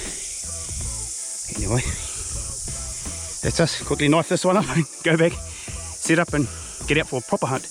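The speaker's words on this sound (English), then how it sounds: "that high pitched noise you can hear in the background? Well, that comes from cicadas" Thousands of cicadas buzz in a steady high drone behind the whole scene, heard in a deer-hunting setting while someone talks over it nearby.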